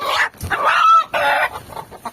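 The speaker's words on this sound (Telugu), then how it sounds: "లోపలైతే కోళ్ళు ఉన్నాయి." Chickens in a village coop clucking loudly and close, several drawn-out, squawking calls in quick succession with brief pauses.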